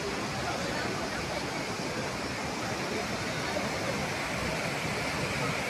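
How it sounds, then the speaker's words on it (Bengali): Kyukhola waterfall in Sikkim roars steadily as water falls forcefully, a dense unbroken rush that stays loud and even throughout. "আমরা দাঁড়িয়েছি কিউখোলা ওয়াটারফলস দেখতে পাচ্ছেন।"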